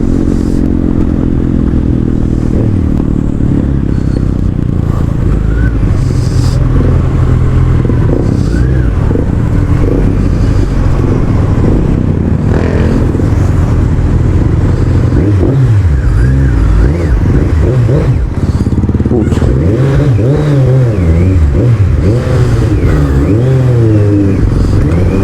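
A rusty Kawasaki Versys 1000 motorcycle rides along a road under repair, its engine droning loud and close with rising and falling revs, wind rush and occasional clatter throughout.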